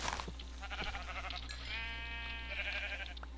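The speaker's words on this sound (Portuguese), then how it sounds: "pegar a vaca lá, matar a ovelha pra eu ter uma cama" Sheep bleat repeatedly in the Minecraft Mo' Creatures mod, a string of wavering game bleats over a steady low background hum, several calls overlapping mid-clip.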